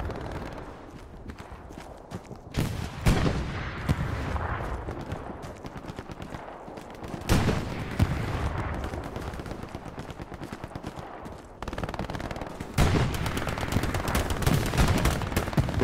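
A machine gun fires repeated bursts into grass in a WWII video game, loud rapid rattling in several strings with short pauses, over continuous battlefield noise.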